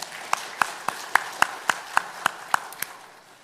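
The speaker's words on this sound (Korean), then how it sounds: "우리 귀한 성경 봉독해준 규림이에게 격려의 박수 하겠습니다" Sparse, evenly spaced claps, about ten sharp hand claps in a steady rhythm, as a small early-morning church congregation applauds a young scripture reader.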